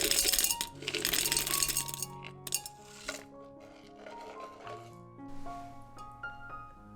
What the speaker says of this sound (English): For the drainage layer, I like to add larger rocks